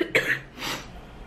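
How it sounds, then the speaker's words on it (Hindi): A single short, harsh cough close to the microphone, followed by a breathy exhale. "मेरी खांसी बहुत गंदी वाली है."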